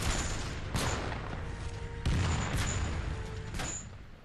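Gunfire from the mobile shooter Frontline Commando 2: several sharp, booming shots spaced about a second apart, each followed by a decaying rumble, fairly close and alone without talk.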